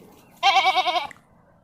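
A goat on a farm lets out one loud, close bleat with a rapid quavering wobble, lasting under a second and ending abruptly.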